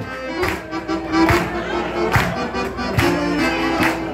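Rhythmic hand claps from a crowd keep time at a fandango dance during a Sunday gathering at a gaucho piquete with a fandango band, steady regular beats over music and crowd noise.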